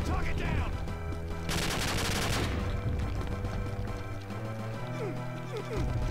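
Sustained gunfire from the Doom II video game running the Real Guns hardcore mod, with rapid loud bursts that run throughout, thickest in the middle, and a dense game soundtrack beneath.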